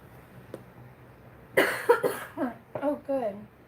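A close burst of coughing, a sharp cough followed by a couple of smaller rough ones that run into spoken words, over a quiet indoor background.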